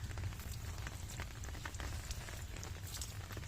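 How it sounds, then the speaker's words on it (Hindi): Steady rain falls outdoors on a cold, stormy day near a home with a water tank, a continuous dense patter with no talk. "बारिश हो रही है"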